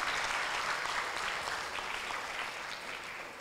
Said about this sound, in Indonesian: Tepuk tangan untuk Mas Andika.